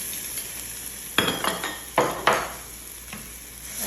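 Onion sautéing in a pan with ginger and garlic being added: a soft sizzle under a few scraping stirs and clinks of a spoon against the pan, with no talk.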